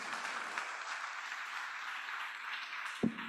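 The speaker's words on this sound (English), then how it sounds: "please give them a very warm round of applause" Faint, steady applause from a conference audience at the African Investment Forum, a continuous wash of clapping heard from a distance, with a brief thump near the end.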